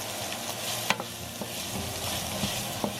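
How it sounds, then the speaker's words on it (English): Garlic frying and sizzling in a pot for a Brazilian moqueca fish stew, stirred with a few scraping clicks of a utensil over a steady close sizzle, no voices. "Stir that for about a minute, just until you can really smell that garlic."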